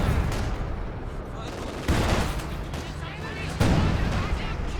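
Artillery barrage in the World War II strategy game Company of Heroes 2, a heavy rolling roar of overlapping blasts that swells in distinct surges, with a voice faintly talking underneath.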